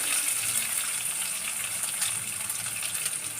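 Onions sauté in a pan while cooking mint rice, giving a steady, bright hiss of sizzling that runs unbroken throughout, close and fairly loud.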